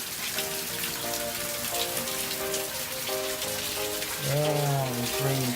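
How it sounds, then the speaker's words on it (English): Heavy rain pours in a dense, steady hiss, recorded on an LG V20 smartphone, with tonal background sounds that rise louder near the end. "Oh, it's raining crazy."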